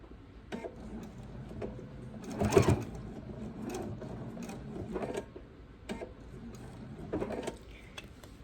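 A sewing machine stitches around the seam of a fabric bowl cozy in quick mechanical bursts, pausing briefly between runs as the work is pivoted, close and fairly quiet with no talking.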